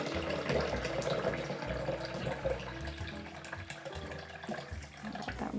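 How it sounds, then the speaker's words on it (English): Tap water running into a blender jar in a kitchen while preparing a vegan African peanut tofu sauce, a steady close splashing gush with a hollow filling tone and no talking. "So we're just going to fill the blender with water."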